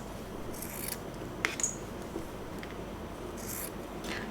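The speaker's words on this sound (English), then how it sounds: "cut the corner like this" Scissors snipping the corner of fabric, a few quiet crisp cuts and soft rustling spread over a few seconds.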